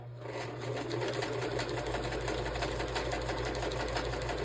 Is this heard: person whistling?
no